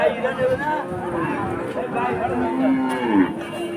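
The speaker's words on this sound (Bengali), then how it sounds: "অনেক বড় বড় গরু আছে এখানে" Cattle lowing at a busy cattle market in Keshabpur, Jessore, with drawn-out moos rising over a steady hubbub of crowd chatter and nearby voices.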